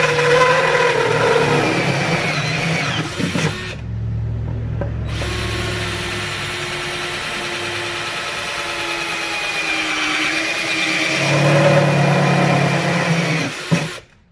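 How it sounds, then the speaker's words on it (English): A power drill boring through material while building a DIY frag rack, whining in long sustained bursts with a short pause near the middle and a brief rev toward the end, loud and close. "see, it drills quite nicely."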